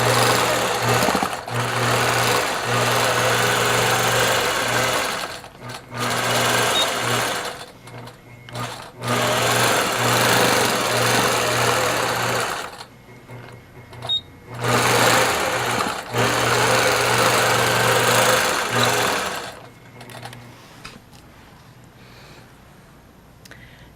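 Loud, close sewing machine whirring in repeated bursts of rapid stitching while sewing down a quilt border, with short stops between runs before falling quiet at the end.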